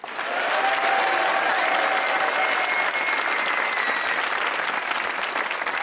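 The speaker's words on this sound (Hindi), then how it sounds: "तालियां।" A studio audience at the Pakistani comedy talk show Hasna Mana Hai breaks into loud, sustained applause that swells quickly and holds as a steady roar of clapping for about six seconds, with no talking over it.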